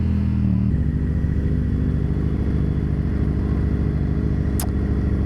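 A Yamaha FZ-07 motorcycle is being ridden, its engine a loud, steady, close drone that holds at one even level throughout, with no one speaking.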